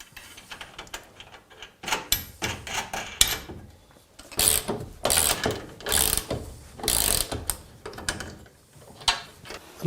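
A support bracket for a Geberit One bathroom vanity is bolted onto threaded rods, producing irregular bursts of close metallic ratcheting clicks and rattles with short pauses between.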